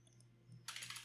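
A terminal command being typed on a computer keyboard while setting up a LAMP server with Drupal, as a close, rapid run of crisp keystrokes in the second half after a quiet start.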